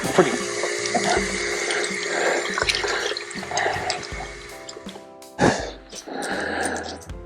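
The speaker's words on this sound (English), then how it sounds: "I'll clean these a little bit, rinse them a little bit" Tap water runs and splashes over coins being rinsed, in uneven gushes and drips with short pauses, close by and with faint talk in the background.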